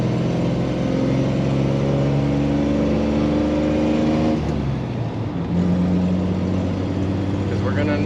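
A 1968 Ford Ranchero engine converted to run on propane revs hard in second gear, a loud steady drone climbing in pitch before a brief dip near the shift and a renewed pull, close and continuous.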